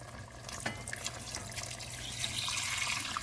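Water poured into a pan over frying minced meat, a steady splashing stream that grows fuller and louder toward the end, with a faint sizzle underneath.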